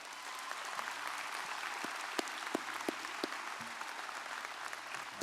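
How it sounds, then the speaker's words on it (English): Audience applause at a 2023 high school graduation ceremony, a broad, steady, moderately distant wash of many clapping hands with a few sharper individual claps standing out near the middle. "round of applause?"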